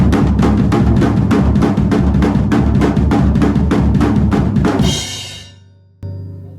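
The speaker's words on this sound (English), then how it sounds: "you're really just doing a regular D beat" Fast, driving D-beat drumbeat with steady rapid hits on the floor tom and crashing cymbals, played loud and close, ending in a ringing cymbal wash that cuts off before a brief final hit.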